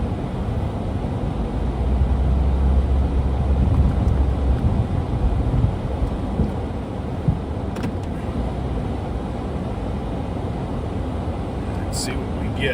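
A pickup truck plows a couple of inches of fresh snow from a driveway after a storm, its engine a steady, wind-buffeted rumble that swells early and then settles into a low drone.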